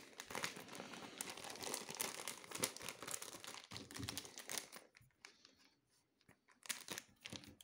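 Crinkling plastic wrapper of a Panini sticker starter pack for the Equipe de France Olympique et Paralympique collection being torn open and handled, close and continuous rustling for about five seconds, then sparser crackles with quieter gaps.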